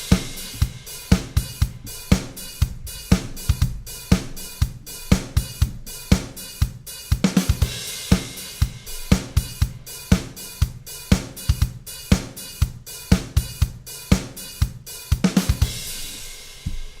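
A programmed disco drum pattern thumps out steady, evenly spaced kick and snare hits in a driving rhythm, closing with a kick, snare and crash cymbal.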